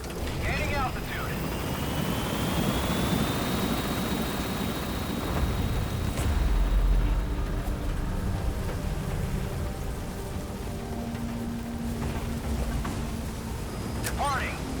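Support helicopter lifting off from a landing zone in Metal Gear Solid V, a steady rotor and engine rumble with wind noise throughout, voices talking over it.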